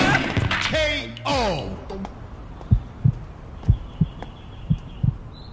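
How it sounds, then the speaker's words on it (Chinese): Loud, thudding heartbeats in a drama scene, six evenly spaced low beats following a burst of talking at the start. "你心跳声怎么这么大？"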